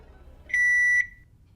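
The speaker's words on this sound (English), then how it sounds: "That oven beep was so obscenely loud." A kitchen oven gives a single sustained electronic beep, about half a second long, very loud and piercing in a quiet room, then stops.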